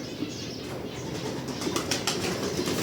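Pigeons in a home aviary flutter and coo, with soft, repeated wing flaps and low calls running steadily at moderate, fairly faint volume throughout.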